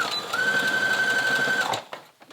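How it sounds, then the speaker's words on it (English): Sewing machine running a back and forth stitch on an elastic casing for a gathered sleeve, a steady close mechanical whir with a constant whine for almost two seconds before it stops, with no talk. "Once I get it almost in there like that, I'm going to go in and do a back and forth stitch so it won't come out the other end."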